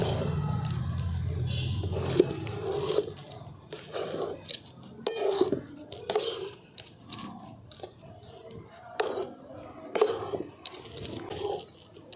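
Rice flour dough is stirred continuously in a pan to cook it, giving irregular close knocks, scrapes and soft squishy thuds from the utensil against the pan.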